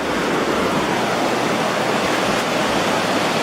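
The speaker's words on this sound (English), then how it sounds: "So they dry, and then there is a shower." Water from an outdoor shower at a spa pours in a constant hissing rush, steady and close, with no voices over it.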